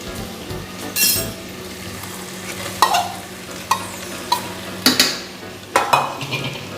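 Marinated soya chunks being stirred into spiced vegetables frying in a pan, a low sizzle under repeated sharp scrapes and clinks of a spoon against the pot, several distinct strokes spaced a second or so apart.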